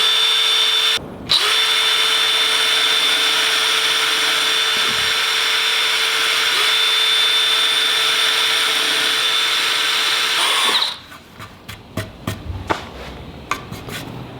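A power drill bores into a wooden board while building a keezer, a loud steady high whine running for about ten seconds with a brief pause near the start, then stopping into scattered clicks and knocks.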